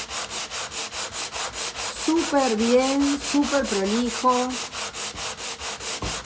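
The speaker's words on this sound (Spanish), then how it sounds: "y lijo hasta que realmente esto quede" A wooden furniture piece is hand-sanded with sandpaper along the grain in steady, rhythmic back-and-forth strokes, loud and close, while a person speaks briefly over the scraping in the middle.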